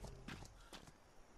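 A horse in the video game Atlas runs past, its hoofbeats sounding as a few quick, uneven clip-clops close by over a low steady background.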